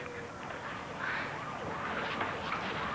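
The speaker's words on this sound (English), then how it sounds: "Is that an ambulance?" An ambulance siren wails in the distance, its pitch sweeping up and down over a noisy background, fairly faint throughout.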